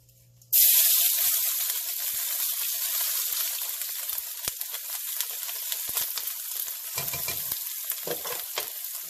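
Chopped garlic, lemongrass and chili peppers hit about two tablespoons of hot oil with a sudden loud sizzle, then keep up a bright, steady crackle with occasional stirring clicks and pops.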